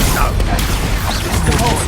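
A brief Expulso blast spell fired in Hogwarts Legacy battle, a loud crashing burst amid dense combat effects and voices, all packed into under two seconds.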